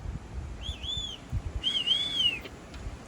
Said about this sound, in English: And the whistling is Rocky.